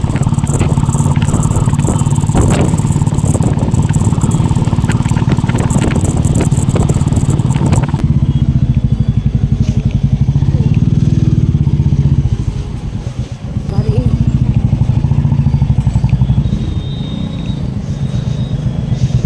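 Motorcycles, auto-rickshaws and e-rickshaws crawl through a long traffic jam near Sangam at Prayagraj during the Maha Kumbh, a loud steady engine rumble and clatter that thins out and quietens after the first eight seconds.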